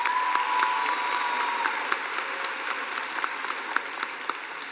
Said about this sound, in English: Please give those people a round of applause.